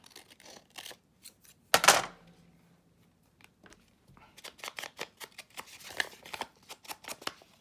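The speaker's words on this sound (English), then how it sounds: "Okay, I'm gonna cut this little piece off here." Scissors snipping a small piece of paper for a craft folio: a sharp cut near the start, then a string of quick light clicks and snips, close and quiet.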